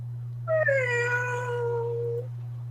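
A cat gives a single drawn-out meow, loud and close, lasting almost two seconds over a steady low hum.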